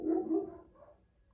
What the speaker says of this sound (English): my dog just will not just shut the hell up